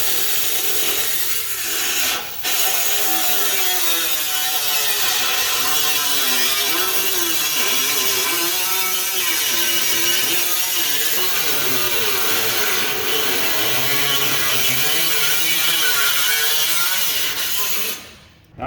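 Rough, continuous rasping of a cutting tool working through a 1967 GTO trunk panel, sustained and loud close up for most of the stretch, with a short pause early on and an abrupt stop at the end.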